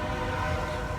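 A train passing nearby, a dense continuous rumble and roar that stays loud and steady through the brief moment, with no voices.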